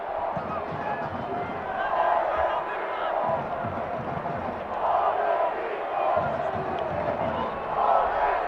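A soccer stadium crowd at a United versus OKC Energy FC match grumbles and roars in rolling swells, a broad distant murmur rising in waves beneath a commentator talking.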